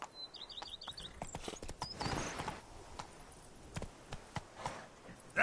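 A horse in a video game walks with soft, steady clip-clopping hooves, fairly faint, over light ambient chirping, with no talk.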